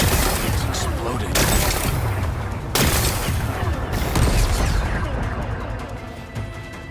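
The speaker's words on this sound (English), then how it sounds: "Gotta blast away some rocks, so I can expose the power cell." Rock-blasting explosions in the PS5 game Horizon Forbidden West go off as several loud, close booms and crashes in succession, each followed by rumbling debris, with a faint voice underneath.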